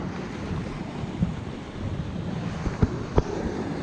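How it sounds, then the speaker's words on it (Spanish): Ocean waves rise and wash in along the shore, with a continuous rushing surf and wind buffeting the microphone, plus a couple of sharp knocks near the end. "Así sube la ola, se la lleva."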